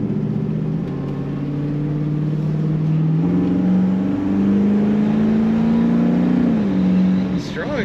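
A 1970 Chevrolet Camaro Z28 pulls hard, its engine note climbing steadily through the gears with a brief shift dip, loud and close from inside the car, and someone speaking over it.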